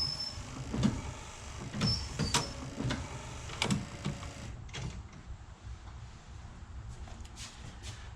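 A windshield washer pump on a 1974 GM vehicle runs while its button is held, a faint electric whir under a series of clicks and knocks before the motor drops away.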